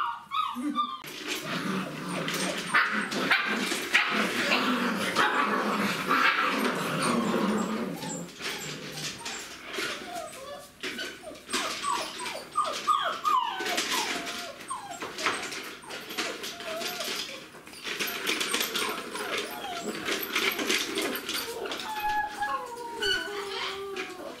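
A 34-day-old female puppy yips, barks and whimpers in a long, restless series of high-pitched cries, close by, with the noise continuing throughout.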